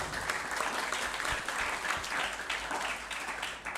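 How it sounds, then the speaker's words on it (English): An audience at the GCC Olgenas International Geolympiad gives a round of applause for Team Wukong, a dense, steady wash of many hands clapping at close range with no voices over it. "Please give round of applause for Team Wukong"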